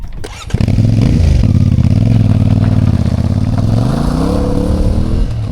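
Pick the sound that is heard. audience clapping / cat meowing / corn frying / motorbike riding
motorbike riding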